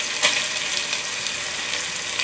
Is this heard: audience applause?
no